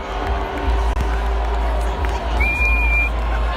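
A large stadium crowd at Lambeau Field roars with a mix of boos and cheers as the Cleveland Browns run out, a dense, sustained wash of voices from the stands.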